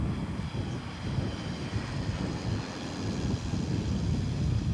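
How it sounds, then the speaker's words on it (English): A steady float plane propeller engine drones at moderate distance over the Tongass Narrows near Ketchikan, Alaska, mixed with wind rumble and water noise, with no talking. "These float planes bring the stuff of life to our island communities."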